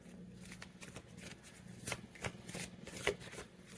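Tarot cards are shuffled softly at close range, a series of quiet riffling flicks and slaps in irregular bursts; nobody speaks.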